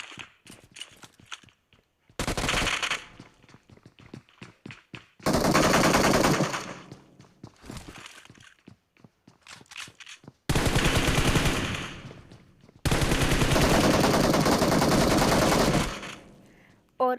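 PUBG Mobile gameplay gunfire: several long bursts of rapid automatic fire, loud and close, separated by quieter stretches of light ticking and footstep-like taps, with no talking.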